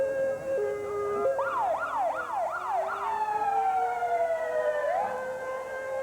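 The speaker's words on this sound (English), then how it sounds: "You can hear the sound of the sirens from the Sheriff's Department fleet" Sheriff's Department vehicle sirens wail and yelp at the 1989 Syracuse St. Patrick's Day Parade, rapid rising-falling cycles then a long descending tone, loud and fairly close with steady traffic noise beneath.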